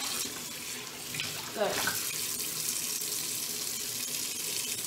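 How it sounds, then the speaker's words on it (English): Kitchen tap running water into a bowl with stuck-on Weetabix cereal, a steady hiss of flowing water filling the sink throughout, with a brief splash partway and a short spoken word. "And then run my tap in the Weetabix bowl."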